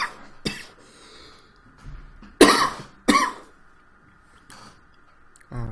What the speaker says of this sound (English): That was a cough that took over me.